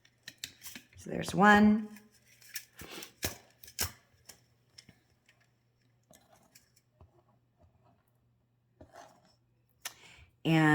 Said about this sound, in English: I'm going to cut myself 2 1/4 inches of wire, and I'm going to cut myself 2 pieces of that.